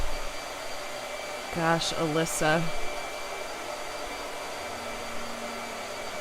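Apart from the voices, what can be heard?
blow dryer running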